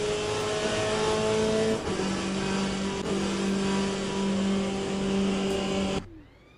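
A Peugeot race car without its rear wing roars in the Le Mans Ultimate racing game, a loud sustained engine drone that dips in pitch twice as it shifts, then cuts off abruptly near the end.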